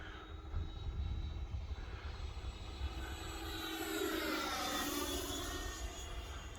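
E-flite Viper 90mm RC jet with an electric ducted fan, cruising high at about half throttle; a steady whine with a rising, sweeping pass partway through, heard from the ground with no talk.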